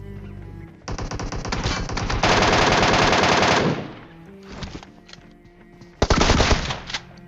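A DBS shotgun fires in a mobile battle royale game, with rapid bursts of blasts forming a dense, loud barrage, then a lull with scattered sounds before another short, heavy burst near the end.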